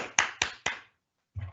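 Three sharp, close hand claps from a single person in quick succession, followed by a pause and a brief low rumble.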